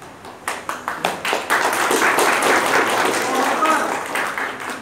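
A crowd at a national seminar at an Islamic institute in Indonesia claps, with a few separate claps first, then a sustained burst of applause that continues steadily before easing slightly.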